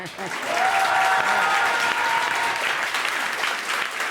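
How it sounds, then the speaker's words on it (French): Audience applause fills the room for a team during a French comedy stage battle, a steady dense clatter of many hands sustained throughout, fairly loud and close with a faint crowd murmur beneath. "Je vous demande un tonnerre d'applaudissements pour l'équipe Dragon Ball."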